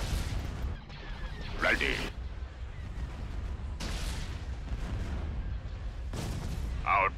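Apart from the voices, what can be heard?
laser cannon fire in video game Star Wars Empire at War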